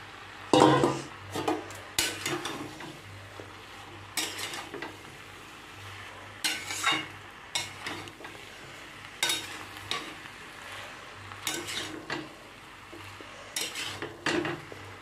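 Fried prawns being stirred into greens frying in a pan for a Bengali prawn and pui shak dish, with repeated scraping stir strokes and utensil clatter over a steady low sizzle, fairly close.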